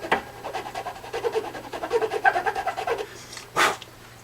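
A file rasps through the nut slots of a budget Glarry guitar in quick, rhythmic back-and-forth strokes. The scraping is close and steady for about three seconds, then stops, followed by one brief louder knock.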